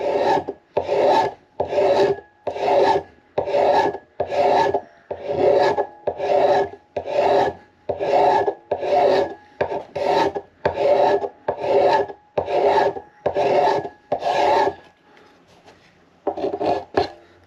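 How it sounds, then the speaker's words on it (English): A file rasps along the wooden neck of a Martin D18 1937 Authentic acoustic guitar in long, steady back-and-forth strokes, about fifteen in a row, close and loud, with no talking. "Smooth that off with the file."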